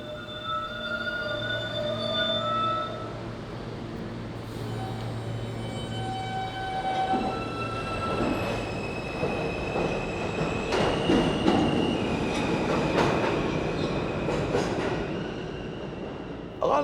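A subway train pulling into a station: a low rumble builds as it nears, then wheels squeal and clatter loudly over the rails as the cars roll past close by.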